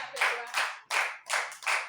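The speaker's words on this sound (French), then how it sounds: "Il faut applaudir pour le Seigneur." A church congregation claps hands in praise, several loud unison bursts in a steady rhythm, close and strong, with a faint held tone under the first clap.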